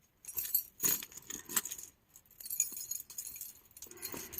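A set of keys jangles in several short, quiet bursts, with brief pauses between shakes.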